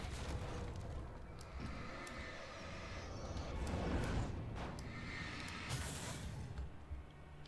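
Flashbang blasts in the video game Alan Wake, a couple of dull booming bursts rising out of a low rumbling game soundscape, moderately loud and without talk.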